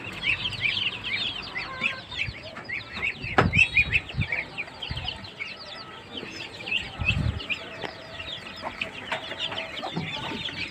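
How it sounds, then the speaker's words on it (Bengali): Young desi chicks, about 25 days old, clucking and peeping together in a steady chorus of high, busy calls, with a few louder bursts standing out close by. "দেশি মুরগির বাচ্চাগুলা"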